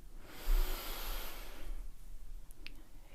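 Deep breathing during a yoga twist: one long, close hissing exhale that fades out slowly, followed by quieter breath and a couple of faint clicks, with no talk.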